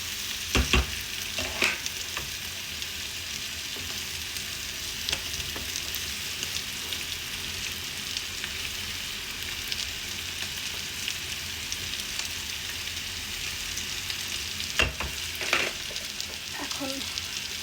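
Fried fish pieces go into a sizzling bitter gourd curry in a pan, a steady close crackle of frying with a few sharp utensil clinks and stirring knocks near the start and again toward the end.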